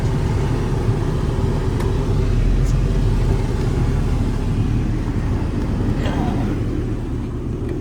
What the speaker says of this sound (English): We're going to take you on the road for a little drive.